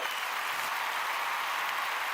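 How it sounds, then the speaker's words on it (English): Steady, moderately faint applause, likely a sound effect, plays for a podcast guest, a continuous even wash of clapping with no talk over it. "Let's give him a round of applause as well."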